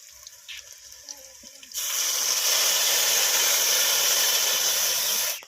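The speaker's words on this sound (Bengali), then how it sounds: "এবার ভাপিয়ে রাখা পুঁই শাক তেলের উপরে দিয়ে দেবো" Steamed Malabar spinach drops into hot oil and sets off an abrupt, loud, sustained hiss that holds steady for several seconds, after a few soft handling sounds.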